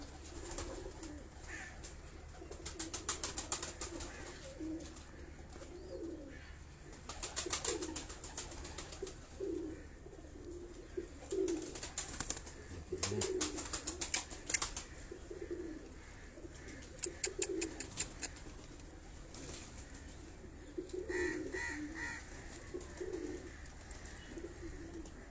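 Domestic pigeons coo softly and continuously through the whole stretch, in repeated low phrases. Faint wing flutters and chirps come now and then, with no voices.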